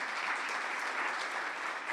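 A luncheon audience at a Manatee County School District event breaks into sustained applause, a steady even wash of clapping from many hands with no speech on top.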